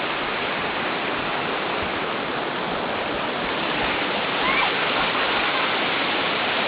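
Waterfall at Mayahay heard as a dense, continuous roar of falling water, loud and close, steady throughout with no voices.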